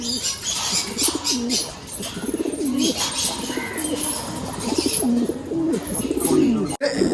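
Racing pigeons in a home loft coo in soft, repeated rolling calls close by, layered over a busy background with faint chirps and a brief rustle near the end.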